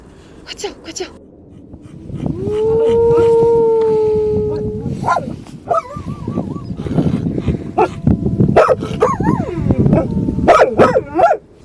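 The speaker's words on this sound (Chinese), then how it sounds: "不是狗叫，是狼嚎啊" Wolves howling, long rising and sliding wails overlapping each other, followed by yips and excited voices talking over the noise.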